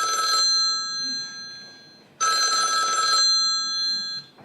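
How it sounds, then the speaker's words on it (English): A mobile phone ringtone plays in two loud electronic bursts of bright, tonal ringing separated by a short pause, close and clear with no talk. "How many of you have fumbled frantically to mute your phone as the ringer explodes in the middle of a meeting?"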